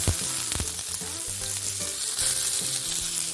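Sliced onion sizzles and crackles in about three teaspoons of hot oil in a pan as the base for duck gravy, a steady, close frying hiss with stirring scrapes and no talking.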